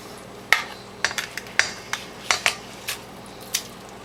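Potatoes are stirred into a Spanish tortilla egg mixture in a bowl, with a string of irregular, close utensil clinks and taps against the bowl and quiet gaps between strokes.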